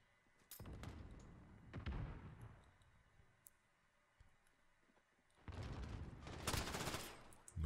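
Bursts of automatic gunfire from Call of Duty Modern Warfare, a loud volley early, a quieter spell of scattered shots in the middle, then another long heavy burst near the end.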